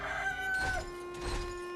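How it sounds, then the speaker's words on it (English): Chickens in the video game Sekiro cluck and crow, a few short fowl calls in quick succession, fairly faint against a quiet game ambience. "I don't know why there's so many chickens here."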